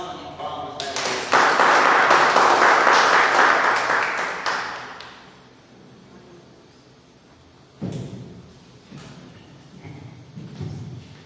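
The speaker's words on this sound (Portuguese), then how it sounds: "uma salva de palmas para Deus" A church congregation breaks into loud applause that swells and then fades out, followed by quieter thumps and a few scattered claps.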